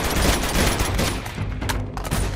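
Rapid automatic gunfire in the video game Uncharted 2: Among Thieves, dense bursts of shots with booming impacts, loud and close, continuing almost without pause through the clip.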